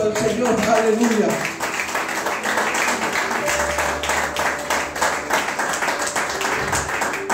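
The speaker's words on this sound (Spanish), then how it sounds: "Dale un aplauso al Señor" Church congregation applauding during a Spanish-language sermon, a moderate wash of clapping that runs throughout, mixed with a low musical drone and some voices.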